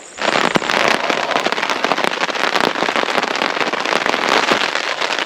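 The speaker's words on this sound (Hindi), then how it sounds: "पता नहीं कहाँ से बिन मौसम बरसात होने लगी।" A dense, loud hiss of heavy, unseasonal rain bursts in suddenly and keeps pattering hard with crackling drops at a riverside beach campsite, no voices.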